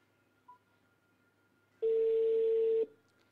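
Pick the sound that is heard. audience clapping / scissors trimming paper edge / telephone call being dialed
telephone call being dialed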